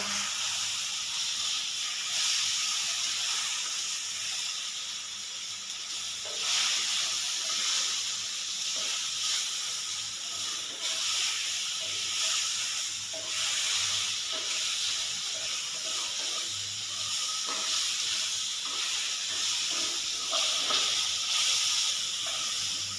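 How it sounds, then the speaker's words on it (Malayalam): Banana frying in a pan with egg, a continuous broad sizzle and hiss that holds steady throughout with slight swells, close and moderately loud. "ഇനി നമുക്ക് തിരിച്ചും മറിച്ചും മുരിച്ചെടുക്കാം കേട്ടോ"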